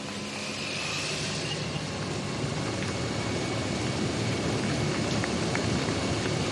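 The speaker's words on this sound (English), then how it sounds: "It starts to rain again, just as they've got rid of those shoe covers and the wet weather gear." Steady rain falls over an Italian road during a professional cycling race stage, a dense, even hiss that holds throughout with no voices.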